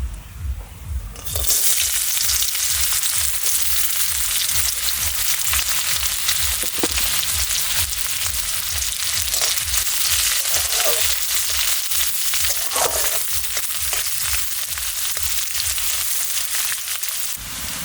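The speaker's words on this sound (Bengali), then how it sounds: "জিরেটা সুন্দর ভাজা হয়ে গেছে এবার দিয়ে দেবো পেঁয়াজ কুচি" Chopped onion goes into hot oil with cumin for a village-style pea kachori and sets off a loud sizzle. Rhythmic stirring scrapes repeat throughout, and no one speaks over it.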